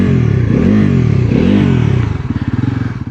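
A Bajaj Pulsar NS400 motorcycle engine revs up and down twice in loud, close sweeping surges, then settles into a throbbing, pulsing idle.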